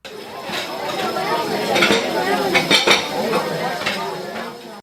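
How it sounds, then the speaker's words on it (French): Plates clattering in a restaurant kitchen's dishwashing area, a steady run of clinks and knocks of crockery and cutlery, with a murmur of voices underneath. "entendre les assiettes de la plonge s'entrechoquer, sans oublier le brouhaha verbal qui en émanait"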